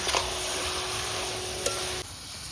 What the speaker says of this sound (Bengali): মাংসটা আগে থেকে লবণ হলুদ মাখানো ছিল এবার এই মশলার মধ্যে দিয়ে দিচ্ছি